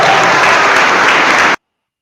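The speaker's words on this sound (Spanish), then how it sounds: "Aplauso fuerte, fuerte, que se oiga," A church audience applauds loudly and steadily, a dense wash of clapping that stops abruptly after about a second and a half.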